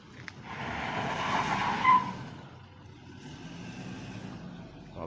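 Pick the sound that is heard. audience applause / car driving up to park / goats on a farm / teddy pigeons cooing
car driving up to park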